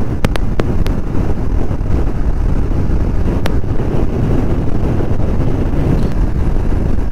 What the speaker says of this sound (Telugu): గాలి బండి తోసేస్తుంది, చాలా గాలి ఉంది ఈరోజు